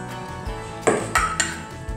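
Dry pasta poured into a pan with cherry tomatoes, feta, oregano and basil, giving a few sharp clinks and rattles against the metal over soft background noise, with a couple of louder knocks near the middle.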